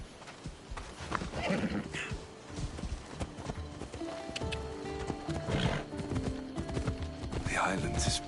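Horse hooves clopping while riding in Assassin's Creed Odyssey, with an occasional whinny over a busy game soundscape of music and ambience.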